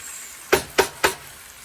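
Minced garlic dropped into a hot frying pan gives three sharp, loud sizzling bursts in quick succession, each fading fast into a faint background hiss.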